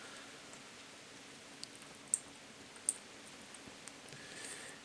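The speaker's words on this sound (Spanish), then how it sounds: "Hoy me encanta la lluvia, realmente está cayendo mucha lluvia." Rain falls steadily in the medieval video game Kingdom Come: Deliverance, a soft, even hiss with a few sharp clicks and ticks standing out, heard alone with no voices.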